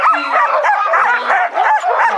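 A team of sled dogs at the start of a race out of Whitehorse yelps, barks and whines together in a dense, continuous, loud chorus close by.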